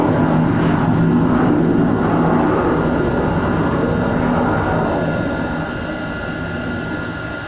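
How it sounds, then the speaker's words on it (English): Military aircraft from a nearby RAF base flying overhead, a broad continuous engine roar that stays steady and loud throughout, easing slightly toward the end, with no talk. "Well, the planes have been unbearable with everything that's happening over the"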